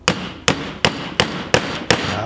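Six sharp metallic hammer blows on a puller during front-end suspension work land at a steady, even rhythm, each ringing briefly, loud and close.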